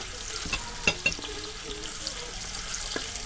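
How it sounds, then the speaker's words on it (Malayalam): Onions fry in hot coconut oil with a quiet, steady sizzle, broken by a few brief clicks and taps from a utensil near the middle. "എണ്ണ ചൂടായിട്ട് നമ്മൾ ഇതിലേക്ക് സവോള ഇടാൻ പോവുകയാണ്"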